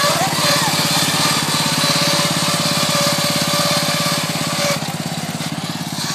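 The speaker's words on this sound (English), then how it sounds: "And the racing lawnmower." Racing lawn mower engine running hard off road, a loud steady buzzing drone with a rough rhythmic pulse that holds throughout and drops slightly near the end.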